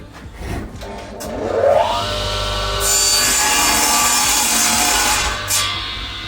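A Max MXMS-255i sliding miter saw with a brushless motor spins up to a loud whine and cuts through wood for several seconds, then the blade noise winds down.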